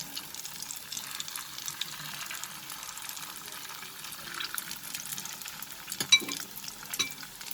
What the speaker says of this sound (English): Once you add all the cauliflower florets into the oil, increase the flame and fry it.